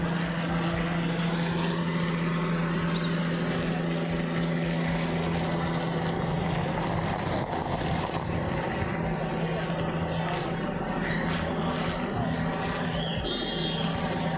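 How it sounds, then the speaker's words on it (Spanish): A helicopter flies over the site of an attack on an Indigenous minga in Cali, Colombia, making a continuous, loud, droning rotor and engine roar that holds steady throughout with no break. "Helicóptero sobrevola el sitio."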